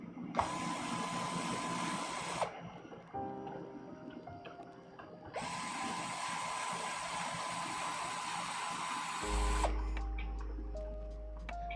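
A power screwdriver drives long screws into an RC truck kit, two sustained whirring runs of several seconds each with a steady motor whine. Quieter mechanical clicks and ticks fill the gap between them, and a low rumble comes near the end.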